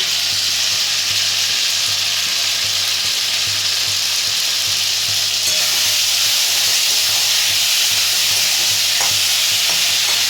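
Poppy seed and green chili paste sizzles steadily in a hot pan for a vegetarian moong dal and poppy seed dish, a loud, continuous frying hiss with faint stirring scrapes and a low steady hum beneath, no voices.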